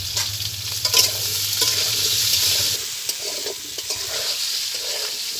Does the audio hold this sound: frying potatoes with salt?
yes